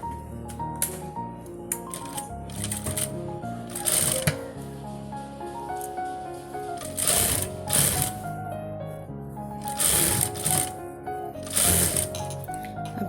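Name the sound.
sewing machine stitching a pleated sleeve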